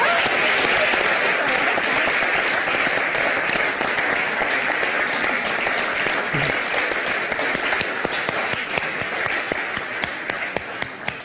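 A large audience claps steadily and densely for about eleven seconds, the applause sustained and loud throughout with faint voices mixed in, at a celebration tied to Eid al-Adha.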